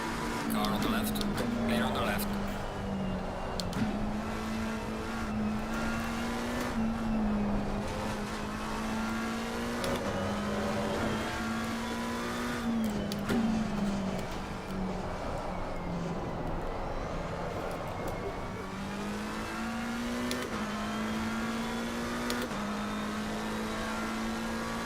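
A McLaren 720S Evo race car in Assetto Corsa Competizione on the Paul Ricard circuit sends out a steady, droning engine note that rises and dips with the throttle, other cars' engines are mixed in, and speech runs over it at times.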